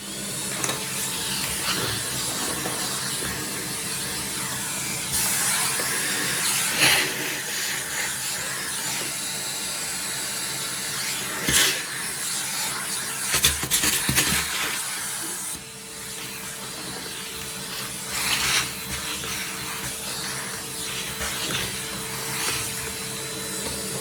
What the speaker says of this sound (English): Let's give this area a vacuum out.